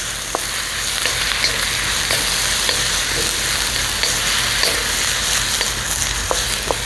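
Baby bok choy sizzling steadily in a hot pan with garlic and ginger, a constant bright frying hiss with occasional soft clicks of stirring, close and loud, with no voices.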